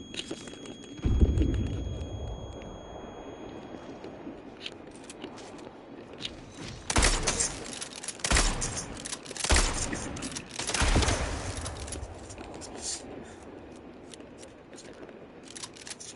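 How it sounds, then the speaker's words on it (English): Video game gunfire in a facility, heard as several sharp, separate bursts of shots with quiet gaps between them, fairly close and loud against a faint background. "Who the fuck's shooting at me?"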